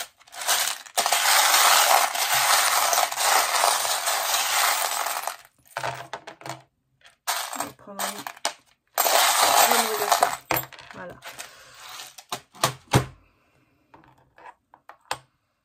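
Small divination charms rattle and clatter as they are shaken and tossed, a loud dense jangling in two long bursts with scattered lighter clicks and settling taps between and after, with no talk.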